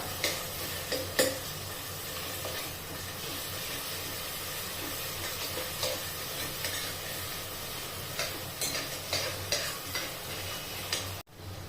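Food sizzles in a hot pan with a steady hiss, punctuated by occasional scrapes and clicks of stirring; no one speaks.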